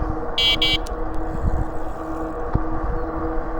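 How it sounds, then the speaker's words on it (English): A short electronic-sounding e-bike horn gives two quick beeps over the steady rumble of the moving e-bike, followed by one brief chirp. "let's give this guy a honk."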